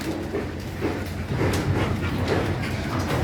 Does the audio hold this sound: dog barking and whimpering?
yes